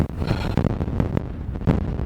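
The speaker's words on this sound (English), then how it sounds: "Yeah, it's windy." Gusts of wind buffet a microphone outdoors during an early-season Saskatchewan mule deer bowhunt, producing loud, uneven low rumbling bursts.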